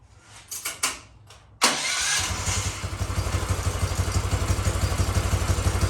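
A lifted golf cart fitted with a CFMOTO muffler cranks with a few sputtering bursts, then catches and settles into a fast, loud, evenly pulsing idle close by, with no talk.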